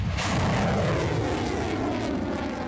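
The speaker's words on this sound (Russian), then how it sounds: "Первые боевые пуски реактивной системы залпового огня произвели в июне" Polonez multiple rocket launcher, a Belarusian system from the Minsk Wheeled Tractor Plant, firing rockets: a loud, continuous roaring blast that fills the scene without a break.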